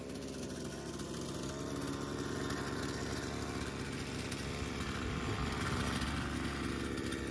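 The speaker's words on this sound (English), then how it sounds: "if I press the accelerator or the throttle, see the strimmer head spinning" A petrol strimmer with its spinning trimmer head runs steadily and close, a continuous buzzing two-stroke engine drone with no pauses.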